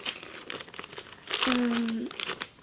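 A small plastic packet crinkles and rustles as it is handled and opened, with a sustained burst of crackling in the middle and faint talk behind it.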